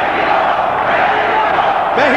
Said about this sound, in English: Mexico is the chant from the crowd, trying to urge on Chavez